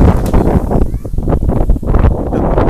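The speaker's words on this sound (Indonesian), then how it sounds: "Anginnya terlalu kencang ya" Strong gusty wind buffets the microphone with a loud, continuous roar while a dragon kite is flown in stormy afternoon weather, its line under heavy strain.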